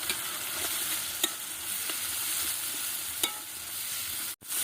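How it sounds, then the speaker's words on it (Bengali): Chopped onion frying with spice masala in a pan for a Bengali eggplant curry, a steady close sizzle broken by a few sharp spatula scrapes and a sudden brief silence near the end. "পেঁয়াজ কুচি দিয়ে আর একটু কষিয়ে নেব মশলা।"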